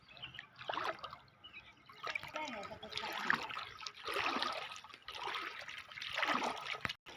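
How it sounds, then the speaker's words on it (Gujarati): Floodwater running through a village street and into houses after heavy flooding in Dhingda village, Bavla, Ahmedabad, heard as a steady trickling, splashing flow in waves with faint voices. "આ બાજુ છે પાણી, ગલ્લે ગલ્લે પાણી છે, ઘરમાં પાણી છે ઘરમાં."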